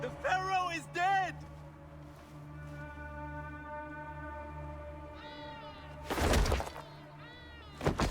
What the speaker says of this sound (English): Never noticed that cat sitting next to me.